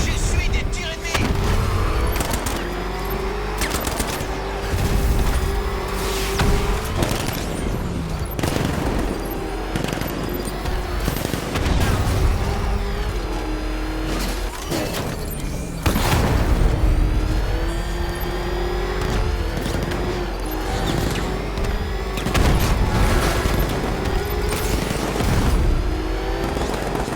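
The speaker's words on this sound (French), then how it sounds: "J'essuie des tirs ennemis!" Enemy gunfire in the Batman Arkham Knight video game: dense bursts of rapid shots and booming impacts over a rumbling engine-like drone, loud and continuous through the scene.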